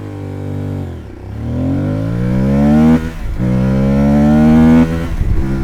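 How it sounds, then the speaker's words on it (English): A 2025 Aprilia Tuareg 660 motorcycle accelerating hard from a standstill, its engine pitch climbing steadily through the gears with brief dips at each shift, loud and close to the rider with no talking. "I just managed to get up to 60 mile an hour in second gear there"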